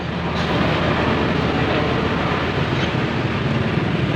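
A motor runs steadily on an island crossing, a loud, dense, continuous drone with broadband rushing noise and no pauses.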